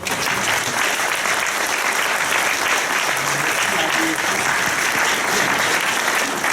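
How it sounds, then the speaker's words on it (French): A conference audience marking 40 years of the Erdeven struggle applauds steadily, a full and even wash of clapping from many hands that holds at a constant level throughout. "c'est qu'on vous applaudisse d'abord."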